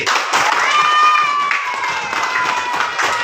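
A classroom full of people claps together in a brief burst of applause, dense and lively, with some voices mixed in.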